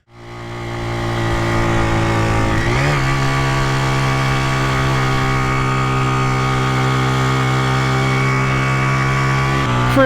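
A Honda Dream 50 race replica motorcycle engine revving hard in first gear, a loud, close, high-pitched buzzing whine that climbs quickly and holds near the top of its rev range with slight shifts in pitch.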